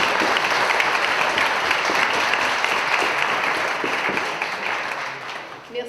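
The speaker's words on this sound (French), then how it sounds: "on peut les applaudir" An audience applauds at a French church or community gathering, with steady dense clapping throughout that gradually thins and fades toward the end.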